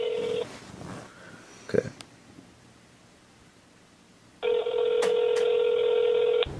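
A phone call placed on speakerphone: a steady two-tone dial or ring signal sounds loud and alone at the start, a brief rustle and a spoken word follow, then the ringing tone returns loudly and holds to the end.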